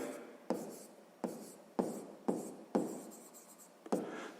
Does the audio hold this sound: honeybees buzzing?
no